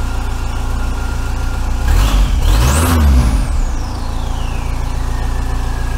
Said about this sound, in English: Turbo does make a nice little noise though.